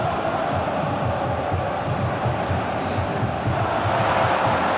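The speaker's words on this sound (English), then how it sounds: "Crowd calling for him to shoot." A football stadium crowd in the PES 2025 video game, at a Liga Indonesia classic match, keeps up a dense, loud roar with a steady pulsing chant throughout, unbroken and enveloping.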